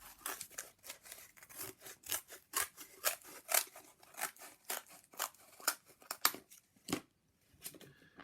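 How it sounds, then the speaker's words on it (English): Scissors snip through a cardboard strip in a steady series of sharp, crisp cuts, close and fairly loud, with short pauses between strokes. "it should then be relatively easy to cut that cardboard with a pair of scissors"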